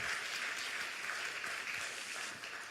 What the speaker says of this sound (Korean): 하나님께 영광의 박수 올려드리도록 하겠습니다